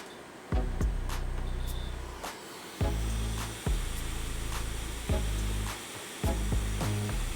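A hot air rework tool blows steadily on a MacBook Pro Retina logic board with a no-image fault, a close continuous airy hiss broken by several deeper bursts as the nozzle moves.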